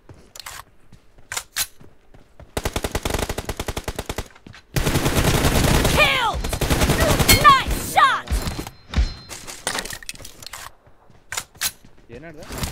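Rapid automatic gunfire bursts from the PUBG Mobile shooter game, a fast rattling volley followed by single shots and heavier sustained fire, with players talking over the action.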